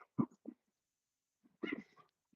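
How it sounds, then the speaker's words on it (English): A dog gives a few short, sharp barks, then a louder burst of barking after a pause, fairly close and otherwise quiet. "I hear another dog barking."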